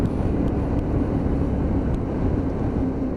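A Lexmoto LXS motorcycle engine runs during a ride, giving a steady, continuous low droning rumble with a constant tone and no speech.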